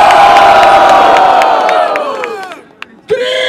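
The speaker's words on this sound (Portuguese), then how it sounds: "Barulho para as rimas de Vini!" Crowd at a freestyle rap battle in Barueri, São Paulo, roaring and cheering loudly, the noise swelling then fading away before a short shout and renewed crowd noise at the end.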